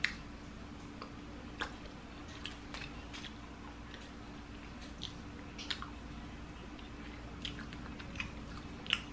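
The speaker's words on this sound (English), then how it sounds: "It's like chewing on literally old gum." Raw honeycomb being chewed close up, with soft sticky, waxy squishing and scattered small clicks over a steady background hum.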